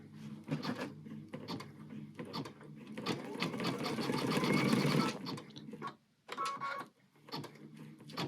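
A home embroidery machine stitches an in-the-hoop heart-design bag on a 6x9 hoop, a rapid steady rhythmic needle clatter that runs loud and close, swells in the middle, then stops and restarts in short bursts, with faint talk around it.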